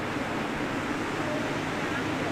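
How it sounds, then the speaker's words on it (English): A waterfall on Maui gives a steady, even rushing hiss of falling water, continuous and moderately distant with no other distinct sounds. "It's a waterfall."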